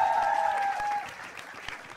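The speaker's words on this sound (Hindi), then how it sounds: "एक बार जोरदार तालियां फॉर प्रतीक यार" An audience at a comedy roast show applauds with warm, steady clapping that fades slightly toward the end, with a brief tone ringing under it at first.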